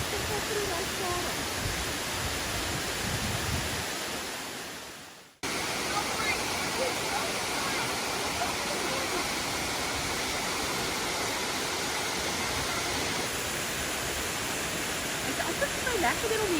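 Rus in Vrede waterfall in the Swartberg mountains roars as a steady, loud broadband rush of falling water, continuous throughout with only a brief dip partway, heard close up and alone.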